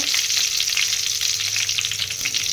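Curry leaves crackle and sizzle in hot oil for a crab gravy, a dense, steady frying hiss that runs loud and close throughout with no talking.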